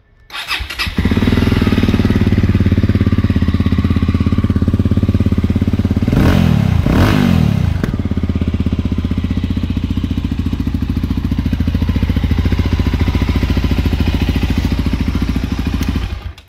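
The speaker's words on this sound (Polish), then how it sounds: "Tutaj dźwięk wydechu już powoduje, że w lesie Was słychać" A Voge 650DSX, GY300 Rally or Romet CRS250 motorcycle engine idles loudly and steadily nearby, its exhaust rumbling in a constant throb with a brief clattering rev in the middle.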